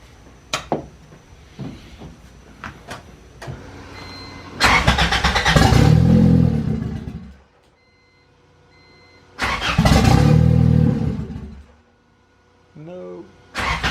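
A Honda B20 VTEC car engine cranks and catches twice, running roughly for a few seconds each time before stalling into quiet, with clicks and handling noises between attempts.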